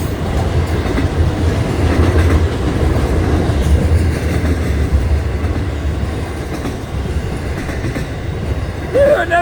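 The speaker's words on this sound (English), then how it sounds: "another massive train" A massive train rumbles past close by without a break, its wheels clattering steadily over the rails, with a brief squeal of metal right at the end.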